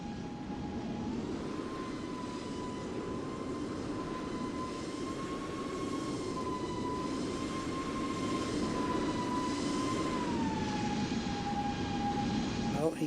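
Airliner engines in Microsoft Flight Simulator drone steadily while taxiing, a continuous loud roar with a sustained whining tone that rises slightly and then settles, heard alone without voices.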